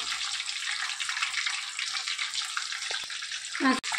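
Mushroom pieces fry in hot oil for a roadside-style snack, giving a steady bright sizzle throughout, with a brief clink of a utensil near the end.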